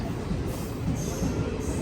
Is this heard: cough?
no